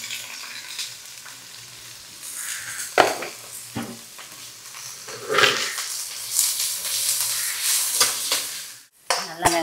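Onions frying in hot oil for a crab meal give a steady sizzle that swells louder midway, broken by stirring scrapes and pan clatter.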